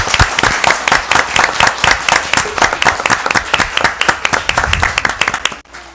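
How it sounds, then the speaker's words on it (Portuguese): Close, energetic applause from an audience of school classes: many hands clapping in quick rhythmic bursts for about five and a half seconds, then stopping abruptly. "Uma salva de palmas para vocês!"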